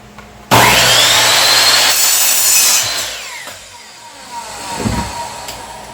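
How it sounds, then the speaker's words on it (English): A Ryobi compound miter saw bites into wood with a loud, sudden whine, the blade screaming through the cut for a couple of seconds before spinning down as the motor winds off. "this one's a great compound miter saw"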